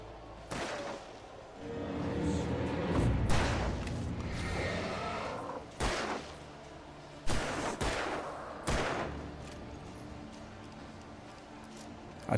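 Gunshots fire in Alan Wake Remastered, sharp loud cracks spaced irregularly over a steady ambient game background, several single shots ringing out one after another.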